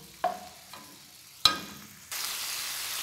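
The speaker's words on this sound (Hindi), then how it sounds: "इन दोनों चीज़ों को कीमे में डालकर कीमे को अच्छी तरह भून लूँगी" Beef mince frying with finely chopped onions and green chillies: a couple of sharp utensil knocks in a quiet kitchen, then a steady close hiss of frying starts near the end.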